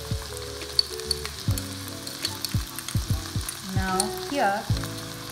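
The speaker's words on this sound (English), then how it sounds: "you must cook this garlic and ginger for a minute or two" Ginger and garlic paste fry in a pan with a continuous close sizzle punctuated by several sharp spoon knocks and scrapes; a voice briefly speaks.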